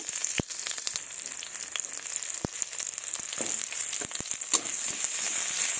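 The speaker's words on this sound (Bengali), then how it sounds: "কড়াইয়ে সরিষার তেল দিয়েছি এবার পেঁয়াজ কুচি দিয়ে দিব" Chopped onions go into hot mustard oil in a wok, giving a continuous crackling sizzle dotted with sharp pops and spatters, close and alone.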